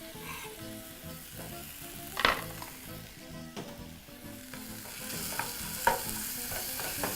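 Onion frying in a pan after the liquid has cooked off, a continuous close sizzle with the soft scrape and shuffle of stirring throughout and a couple of sharper utensil knocks.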